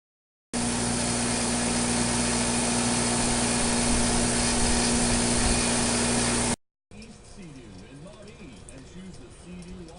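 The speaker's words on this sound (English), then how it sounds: "we need to smooth off some of these rough edges here" A power tool smoothing the rough edges off a cut metal tie rod for an electric Dingo build runs loud and steady with a constant droning whine for about six seconds, then cuts off, leaving quieter shop sounds.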